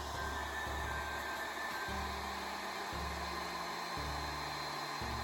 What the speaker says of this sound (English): they load them into a machine to remove the outside.